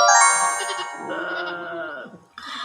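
Goats bleating in an animated story, several wavering cries in quick succession, loud and close, ending with a short chime-like sound.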